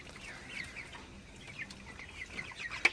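Broiler chickens on a farm cluck and chirp in a steady, busy chatter of overlapping calls at moderate distance, with one louder squawk near the end.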